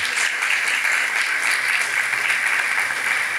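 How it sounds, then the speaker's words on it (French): A conference audience applauds the speakers after a talk on major donors and philanthropy, with dense, steady clapping that holds at an even level from start to finish. "Je vous propose qu'on les applaudisse."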